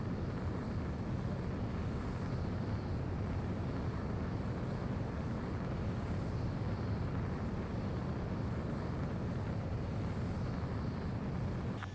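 Jet aircraft taking off in Ace Combat 7, a steady, fairly faint broadband roar of engine and rushing air holding an even level without a break, with no speech over it.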